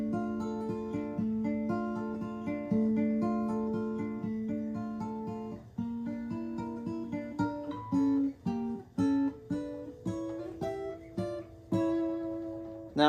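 A guitar plays a section of a song, picked arpeggiated chords ringing out steadily, then shorter plucked notes with small pauses toward the end, close and clear with nobody speaking.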